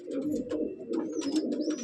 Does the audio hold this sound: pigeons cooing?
yes